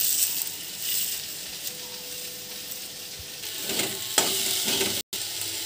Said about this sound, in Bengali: সামান্য একটু সর্ষের তেল দিয়েছি, বেগুন দিয়ে দিচ্ছি, পরিমাণ মতো নুন, সামান্য একটু হলুদের গুঁড়ো।